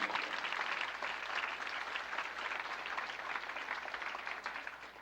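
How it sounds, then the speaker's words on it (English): A crowd claps warmly for grandparents at a first-grade grandparent day school program, a full, continuous round of applause that holds steady throughout and eases slightly at the end, with no one speaking. "they deserve an extra round of applause for being as patient"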